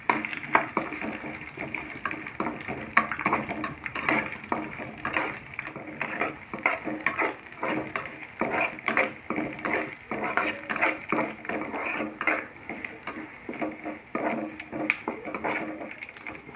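Crushed garlic and dried red chilies frying in a pan for kala chana chaat, a steady soft sizzle with frequent light clinks and scrapes of a spoon throughout.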